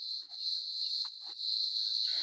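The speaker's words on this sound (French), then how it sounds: "Vous avez le grillon." A cricket in Africa gives a steady, high, continuous chirring trill, close and clear, with a few faint rustles and bumps in the background and no talk.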